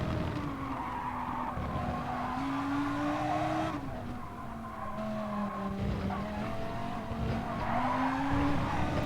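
A Gr3 race car skids in oversteer at Catalunya in Gran Turismo Sport, its tires squealing in a long, wavering, sustained tone over steady engine noise, close and continuous.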